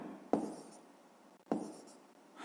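Pen or pencil writing an answer by hand on paper, two short scratchy strokes about a second apart, close and quiet, with no talk over them.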